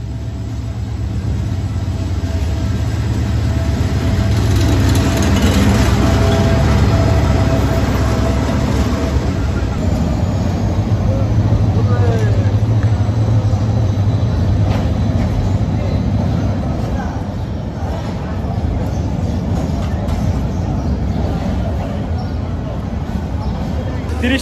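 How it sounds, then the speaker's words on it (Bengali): The Saikat Express intercity train rolls into Satkania railway station on its inaugural Chattogram–Cox's Bazar run, a loud, sustained low rumble and rattle beneath a murmur of people talking. "30 মিনিটের বিলম্বে প্রবেশ করছে সাতকানিয়া রেলওয়ে স্টেশনে আন্তনগর সৈকত এক্সপ্রেস"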